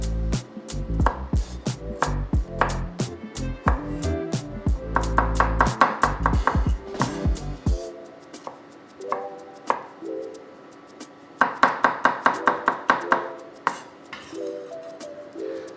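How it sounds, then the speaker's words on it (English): Knife chopping garlic on a cutting board during risotto prep, a fast run of crisp close taps that pauses, then returns in shorter quick bursts. "Give the rice a little stir, and then chop your garlic."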